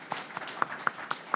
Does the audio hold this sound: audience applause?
yes